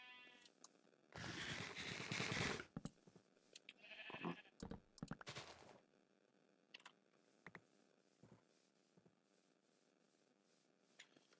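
Several sheep bleat in bursts across a rural setting, with a long loud bleat near the start followed by shorter, fainter calls and scattered clicks, no talk over them.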